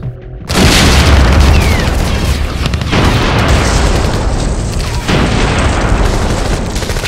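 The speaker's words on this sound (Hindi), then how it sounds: "गाजा इस्लामिक यूनिवर्सिटी कैंपस का आसमान बम धमाकों के साथ धूल के गुबार से भर गया।" Bomb blasts strike the Gaza Islamic University campus, a heavy booming roar that swells abruptly and rumbles on continuously with dense, loud low-end debris noise and no talk.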